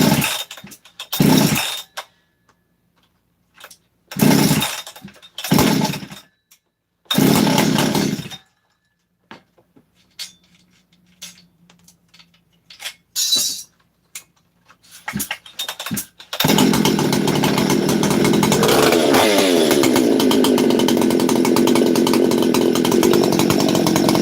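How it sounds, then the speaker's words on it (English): A Husqvarna 288 chainsaw sputters in several short bursts that cut out, then catches and runs loud and steady at a high idle until the end. "Now that's what a 288 is supposed to sound like."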